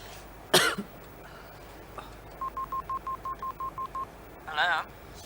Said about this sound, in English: I've got to make a phone call.